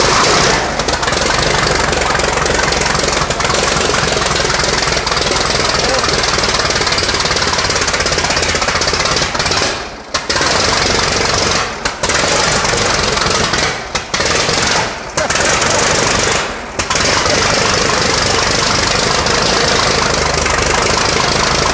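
Project Heaven restoration car engine running at a fast, hammering idle, loud and close, with a knocking, jackhammer-like clatter and a few brief dips in the noise.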